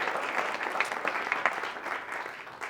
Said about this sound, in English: That was applause for independent bookstores, by the way, not for me.